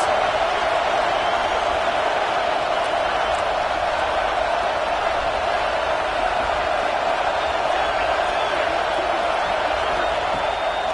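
A stadium crowd roars steadily at a college football game between Nebraska and Penn State, a dense, sustained wash of noise with no breaks, loud and distant-sounding, with talk running over it.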